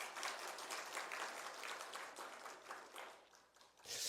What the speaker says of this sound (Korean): 앉을 때는 박수 해주셔야 됩니다